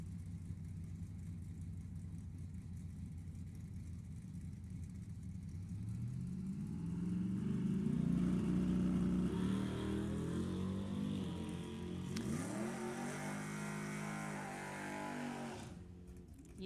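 A 2002 Camaro and a 1968 Camaro launch side by side at a Sacramento Raceway bracket drag race, their engines idling low, then swelling into a loud, sustained roar that rises and shifts through gears before fading near the end.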